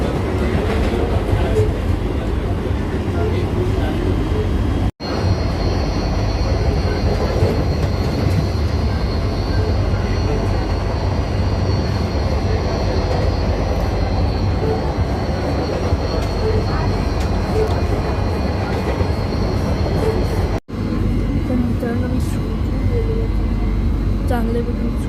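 A Mumbai local train runs steadily near Vasai Road with a loud, continuous rumble of wheels and carriage noise, faint rail squeals, and two brief dropouts in the sound.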